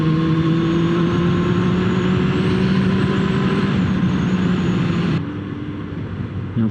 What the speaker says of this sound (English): Your Fiat 500's going for it.